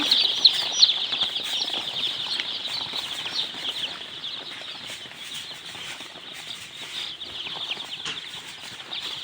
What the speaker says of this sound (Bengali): একদিন বয়সী মুরগির বাচ্চা